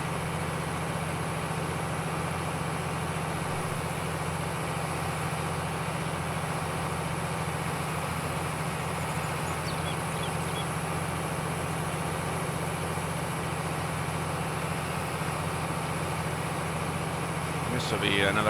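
A tractor engine in the Farm Sim video game runs steadily the whole time at an even, low drone, with no speech over it.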